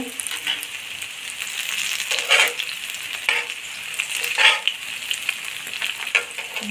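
Veg cutlets sizzle steadily in a hot pan as they turn crisp, a continuous broadband hiss with a few louder scraping bursts where they are flipped or nudged; no voices.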